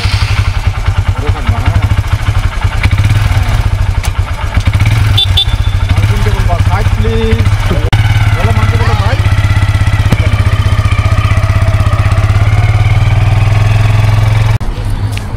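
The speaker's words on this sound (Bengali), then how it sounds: "এই যে আরিয়ানা আরাধনা আর পিসার মোটরসাইকেলে করে এখন একটু ঘুরবে" A motorcycle runs with a loud, steady engine drone close by throughout, carrying an adult and two children for a short ride, while people talk over the noise.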